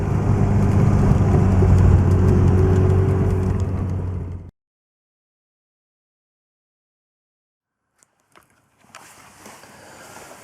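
A Lotus Excel engine hums steadily from inside the car for about four seconds before cutting to silence, followed by faint rustling and handling noise.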